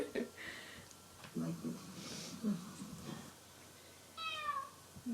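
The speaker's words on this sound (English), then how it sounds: "Now you're going to start meowing." A cat gives a short meow near the end, among soft sniffs and breathing, with a person speaking quietly nearby.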